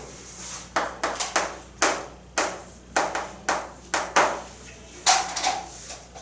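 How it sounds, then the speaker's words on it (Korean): Students in a high school probability class clap in a series of sharp, distinct claps, some in quick clusters, close and clear with no talking over them. "한 번 더 박수 쳐볼까?"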